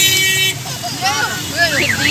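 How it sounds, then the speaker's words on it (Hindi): Busy street traffic outside a mall in Multan, with car horns tooting in short bursts over the engine hum and people talking nearby. "ट्रैफिक हाँ। है भाई"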